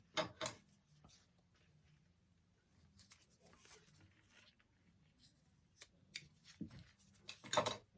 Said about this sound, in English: trim them so they're the same width as the zipper